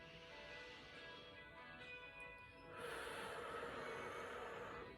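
A deep, drawn-out inhalation during a stretching session, a faint breathy rush that swells partway through and holds steady, close and soft with no talking.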